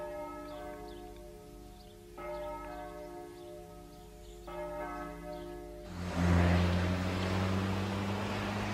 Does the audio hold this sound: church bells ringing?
yes